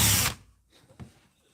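Power driver removing screws from a mini chainsaw, a short loud burst of whirring at the start, then a faint follow-up click and brief buzz.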